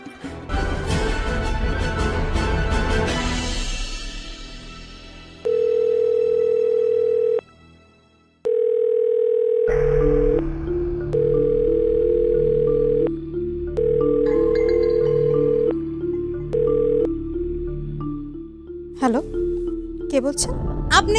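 A telephone emits steady tonal beeps in a repeating on-off pattern while a call is placed in a Bangla drama serial, following a burst of background music, with people talking nearby.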